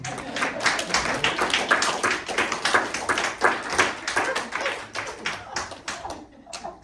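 A live audience applauds steadily, dense overlapping hand claps that hold for several seconds before thinning out.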